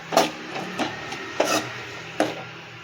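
A spatula stirs and scrapes prawn thokku masala sautéing in a pan, giving several distinct scraping strokes at uneven intervals, close and fairly clear.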